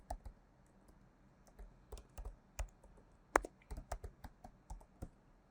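Keys clack on a computer keyboard as an email ID is typed into an online registration form, a quiet, irregular run of separate clicks with short pauses, no voices.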